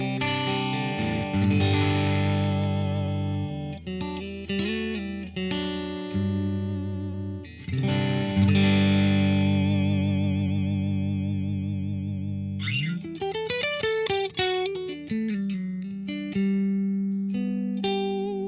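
An Ibanez electric guitar on the fourth pickup position, a split-coil neck-and-bridge blend, plays through an amp with the Keeley MK3 Driver pedal switched off. Sustained, ringing chords and single notes continue throughout, with no talking.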